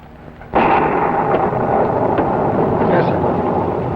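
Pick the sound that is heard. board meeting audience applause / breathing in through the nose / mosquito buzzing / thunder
thunder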